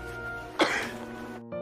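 A feverish girl in a film gives one short, harsh cough over steady background music, and the sound then drops away briefly.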